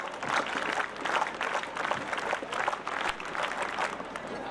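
Scouts and guides clapping together at an outdoor gathering, a fairly faint, distant, uneven patter of applause with crowd murmur beneath.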